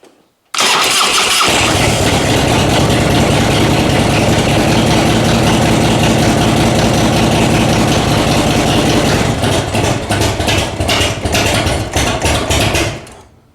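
A carburetted Harley-Davidson Evolution Road King engine fires up and settles into a loud, steady, lumpy idle as it warms, running close and continuous for about twelve seconds before cutting off.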